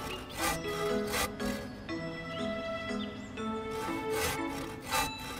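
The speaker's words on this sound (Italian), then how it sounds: "Tagliamo i tronchi in pezzi più piccoli per poterli trasportare facilmente" A saw rasps steadily back and forth through wooden logs, strokes repeating in an even rhythm, close by with no voices.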